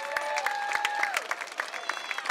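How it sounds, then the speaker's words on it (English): Audience applause at an outdoor community concert, a steady patter of many hands clapping with some crowd noise, while a sustained tone runs underneath. "How about a nice round of applause for the people who organized and put this together?"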